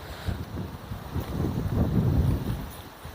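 Strong warm wind buffeting the microphone outdoors near an old cremation furnace, a loud continuous low rumble with gusts and no talk.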